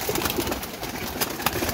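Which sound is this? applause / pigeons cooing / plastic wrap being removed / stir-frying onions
pigeons cooing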